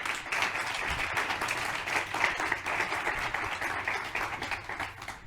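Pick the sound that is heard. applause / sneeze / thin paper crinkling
applause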